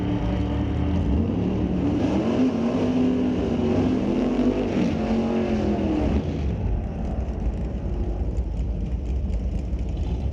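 A drag racing car makes a run down the strip, its loud engine roaring and climbing in pitch as it accelerates, then fading as it pulls away.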